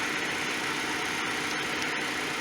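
A car engine idles at low volume with a steady, even hum and a faint vibration, still running after the kill switch is turned off.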